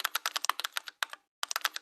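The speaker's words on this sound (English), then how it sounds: "When I type on my keyboard, those key presses are fed to the emulator" Fingers tap quickly on a computer keyboard, producing a rapid run of crisp, close clicks that stop briefly before another short flurry of keystrokes.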